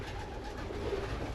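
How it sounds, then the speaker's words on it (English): Young racing pigeons kept on box perches coo softly in a loft, a faint low murmur swelling briefly near the end. "Well, these are young birds."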